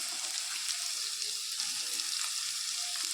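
Onion and garlic fry in a mix of butter and oil, a bright, even hiss of sizzling that carries on without a break, moderately close and free of speech.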